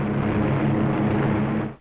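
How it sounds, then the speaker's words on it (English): WWII fighter and bomber planes flying away from Marcus Island after a raid, a loud, steady droning engine roar that holds throughout and dips briefly at the very end. "As the fighters and bombers swing victoriously away from Marcus Island"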